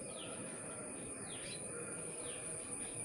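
Crows and other small birds call around a small garden pond, with faint, distant chirps and short sweeping tweets repeating over a quiet outdoor background.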